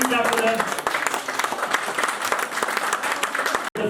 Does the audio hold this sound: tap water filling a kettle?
no